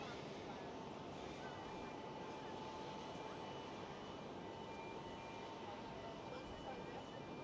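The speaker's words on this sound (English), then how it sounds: "777 freighter." A China Cargo Airlines Boeing 777 freighter at Schiphol, its engines producing a steady distant jet rumble with a faint whine, even in level and continuous throughout.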